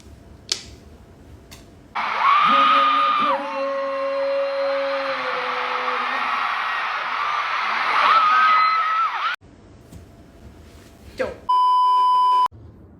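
At a concert in Bangkok, a packed crowd screams in a sustained, shrill wall of sound for several seconds, swelling and fading with electronic beeps and a brief pause between bursts.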